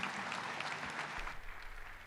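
A church congregation claps together in a brief burst of dense applause that fades out after about a second, leaving a low rumble.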